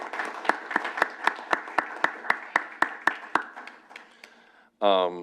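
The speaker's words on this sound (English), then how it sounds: "big round of applause for our chair" A board meeting audience claps for the chair in a steady, evenly spaced run of sharp claps that thins out and fades, then a voice starts speaking right at the end.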